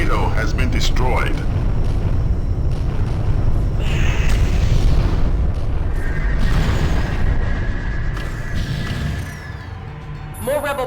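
The NTC Cato ship blows up in the space combat game FreeSpace 2, a long rumbling explosion with crackling debris that slowly fades, under steady radio voices.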